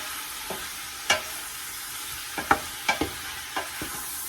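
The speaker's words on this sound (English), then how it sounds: "flavoring the beef with that bacon grease, but I really want to make sure that I cook this all the way through" Ground beef browns in bacon grease in a pot for a homemade vegetable beef soup, giving a quiet, steady sizzle broken by several sharp scraping stirs, close up with no talking.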